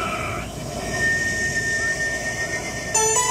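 A voice imitates a passing train, giving a steady rumbling wash with a squeal-like tone before a sharper sound at the end.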